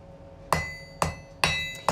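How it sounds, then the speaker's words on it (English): A hammer strikes hot steel on an anvil at a blacksmithing lesson in North Yorkshire: four loud, ringing metallic blows, spaced about half a second apart, each with a bright sustained ring that decays quickly. "you took a hammer to hot steel"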